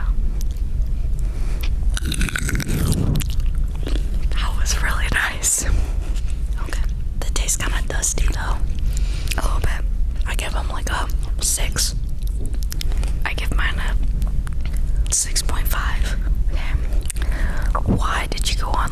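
Someone bites into crunchy food and chews it close to the microphone, making steady crunching and mouth sounds. Soft whispered voices run underneath throughout.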